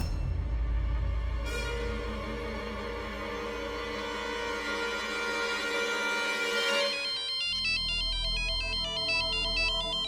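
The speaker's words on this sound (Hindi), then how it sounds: "वो कमरे में फोन बज रहा है शायद" A phone ringtone plays, first as a sustained melodic tone, then switching to a rapid repeating electronic ring pattern, fairly loud and steady throughout.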